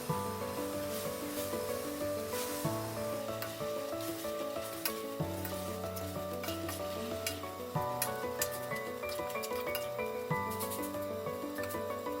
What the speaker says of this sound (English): In this way ignite the bottom of the pot and cook the apples.